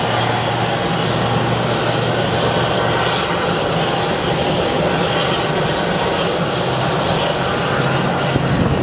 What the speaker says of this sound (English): we have our Airbus here. I love when they do a cold start.